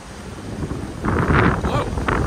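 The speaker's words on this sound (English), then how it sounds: "It's windy." Strong gusting wind buffets the microphone outdoors in Eastwood City, a roaring rush that swells louder after the first second, with no talking.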